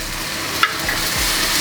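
Dried red chilli and oil sizzling in a hot pan during Bengali cooking, a steady close frying hiss with a brief clink of a utensil partway through.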